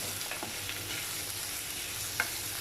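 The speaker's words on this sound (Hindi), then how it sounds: "और इसे बहुत अच्छे से मिक्स कर लेंगे" Chopped carrots and boiled peas stirred in a pan with a spoon, soft scraping and light sizzle running steadily throughout, a brief sharper clink near the end.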